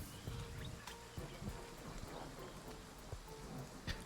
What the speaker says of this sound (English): So we got rain.